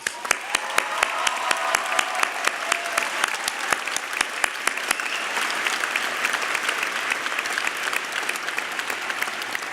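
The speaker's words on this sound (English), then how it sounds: "let's give them a round of applause" Crowd at a university graduation ceremony applauds steadily for nearly ten seconds, dense continuous clapping with sharp individual claps standing out near the microphone.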